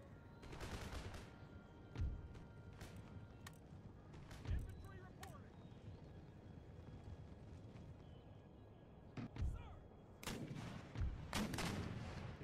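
Artillery and musket gunfire in the Empire: Total War video game, scattered booming shots and crackling volleys at varying distances, with a voice giving commands in between.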